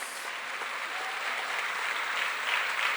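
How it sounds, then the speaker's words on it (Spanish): Steady applause from a church congregation, dense and continuous clapping throughout with no voices standing out. "Fuertes aplausos al Señor"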